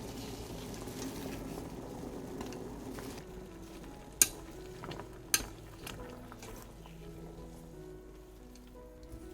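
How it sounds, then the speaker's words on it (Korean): Water boiling and bubbling steadily in a pot as chwinamul greens are blanched, with a couple of sharp clinks of a utensil against metal. "끓는 물에 5초 정도 취나물을 데쳐줍니다."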